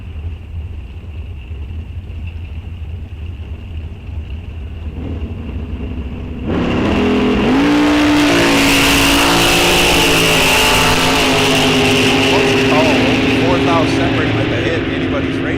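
Drag racing cars launching at a bracket-series raceway, a 1967 Chevelle among them: a quieter stretch, then a sudden loud engine roar that revs up and holds steady for several seconds, with an announcer talking throughout.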